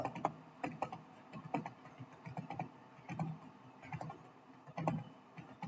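Typing on a computer keyboard during an Excel exercise, rapid irregular key clicks in quick bursts, close and fairly quiet, with no voice over it.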